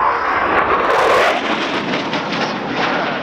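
A Belgian Air Component F-16 fighter jet passing at an air display at RNAS Yeovilton, a loud continuous roaring jet engine with a rushing, slightly pulsing quality, no voices over it.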